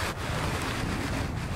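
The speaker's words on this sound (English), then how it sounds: "a bit windy this morning, this afternoon" Wind blowing outdoors near a building site with scaffolding, a steady rushing buffet across the microphone for a brief moment, with no other sounds.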